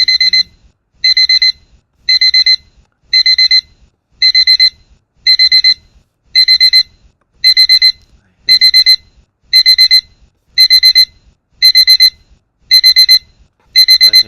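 An electronic alarm from stock-tracking inventory software beeps in regular bursts of rapid high tones, about a dozen loud repeating pulses with short silent gaps, and a voice briefly speaks near the end.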